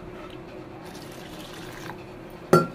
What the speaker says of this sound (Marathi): पाणी टाकून आपण मिक्स करून हे अर्धा तास भिजत ठेवायचे